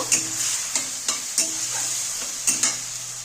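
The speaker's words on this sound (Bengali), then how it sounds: "দেখো এবার মশলাটা ভালো করে কষিয়ে নেব।" A Bengali fish-head and potato masala with salt and a little water is stirred and fried in a pan, a sharp spatula scrape landing roughly every half second over a constant soft sizzle.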